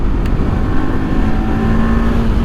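Motorcycle engine held at full throttle on an open road on a long touring ride, a steady, loud droning roar with a sustained hum and continuous wind and road noise, no voices.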